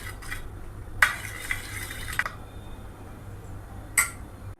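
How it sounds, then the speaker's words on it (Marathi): A spoon stirring salt into curd with green chilli tadka, a few scattered clinks and scrapes against the bowl spaced over several seconds, faint and close. "आणि मिक्स करून घ्यायचं"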